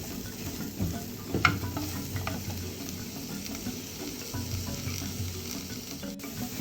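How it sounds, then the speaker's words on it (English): Curry spices and coriander stirred in a hot pan, a steady soft scraping and low sizzle running throughout with a few sharper clinks of the utensil near the start. "Stir it, and then we're going to let that cook down a little bit"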